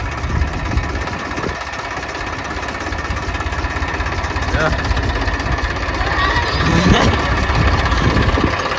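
Small tractor engine idling and running at low revs near a house, a steady mid-low throbbing drone that swells slightly toward the end, with people talking over it.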